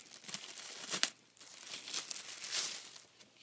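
Plastic packaging around a phone case is opened up close: soft crinkling and tearing rustles come in irregular bursts, fairly quiet, with no talking.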